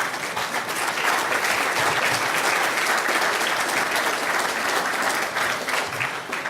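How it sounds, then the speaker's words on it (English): A crowd at a college athletic Hall of Fame ceremony claps for the selection committee, giving steady, dense applause that holds at a full level for the whole stretch, with no speech on top. "Let's give these guys a round of applause."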